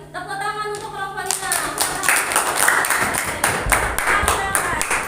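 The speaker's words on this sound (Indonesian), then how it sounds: "Tepuk tangan untuk kelompoknya" Classroom applause for a student group after their presentation: after a brief voice at the start, dense clapping from many hands rises and holds steady and fairly loud to the end.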